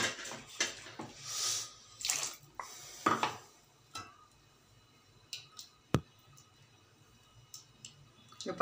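Water splashes into a metal pot in short pours for mushroom and butter bean gravy, amid clinks and knocks of cookware, fairly quiet and close.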